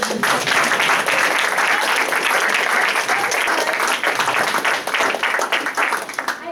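Sustained, dense audience applause fills a hall at a Loyola University New Orleans honors graduation convocation, steady and loud throughout with no break.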